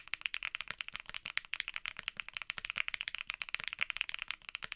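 A tactile mechanical keyboard switch is typed on rapidly and steadily, a dense run of crisp, close clicks and clacks for about five seconds with no talk.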